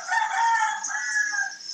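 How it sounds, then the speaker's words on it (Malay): A rooster crows once, a single loud, close, drawn-out cock-a-doodle-doo that lasts the whole moment with no voices over it. "Ya, benar. Ada ayam."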